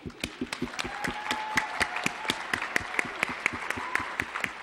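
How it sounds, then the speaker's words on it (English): An audience applauds after a dance performance at a stage event, a dense burst of steady clapping from many hands that carries on throughout and sounds close and lively. "let's give Cassie a rousing round of applause, cheering her on her journey"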